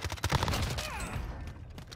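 Gunfire in Call of Duty: Modern Warfare, a quick cluster of rapid shots early on, then fading into a ringing tail over the remaining moment.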